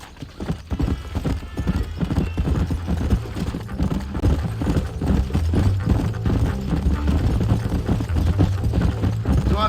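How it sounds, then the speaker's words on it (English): Horse hooves gallop in a fast, steady clip-clop rhythm in the Western video game Red Dead Redemption, loud and close throughout, with an occasional whinny and no talk. "Get on your horse, amigo."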